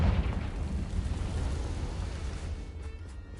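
A Confringo fire spell explodes in Hogwarts Legacy: a loud, deep rumbling blast that starts immediately and slowly fades away.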